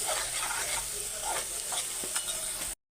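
In a pan of egg curry seasoned with salt and turmeric, a spoon keeps stirring over a loud, steady sizzle, scraping softly now and then before the sound cuts off abruptly.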